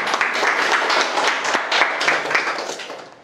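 A conference audience bursts into steady applause, a dense wash of many hands clapping close by that tapers off toward the end.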